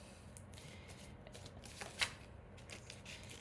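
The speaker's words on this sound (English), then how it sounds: "I think I'm just shuffling crazy today" Tarot cards are shuffled in quick riffling bursts, quiet and close, with one sharper flick near the middle.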